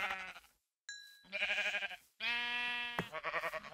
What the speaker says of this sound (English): I suppose we can probably kill a few more sheep just to get a little bit more mutton